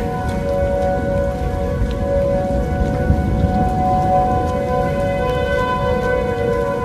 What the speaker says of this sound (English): tornado sirens sound scary, but this time the sirens synced up and harmonized to create this beautiful sound